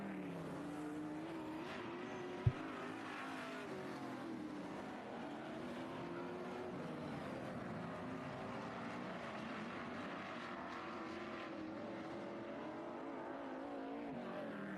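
Race cars lapping a speedway oval on a local raceday night, a steady loud engine drone that rises and falls as the field passes, with one sharp pop partway through.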